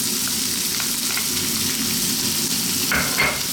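Onions sizzling steadily in a hot pan over lively heat for a chickpea dish, a dense, continuous frying hiss heard up close, with a couple of faint clinks near the end.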